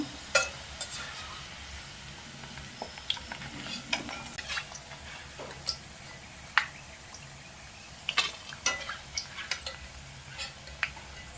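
Onion pakodi in hot oil, bubbling with a soft, steady sizzle, broken by scattered clicks and light clinks of a slotted spoon turning and lifting the pieces.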